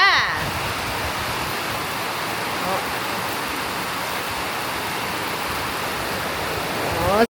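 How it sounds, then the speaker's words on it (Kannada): Dense, heavy rain pouring steadily, a loud continuous roar close by with no breaks. "ಜೋರಾಗಿ ಮಳೆ ಬರ್ತೈತಲ್ಲ"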